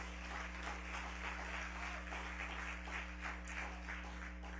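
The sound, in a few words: applause for Jesus in church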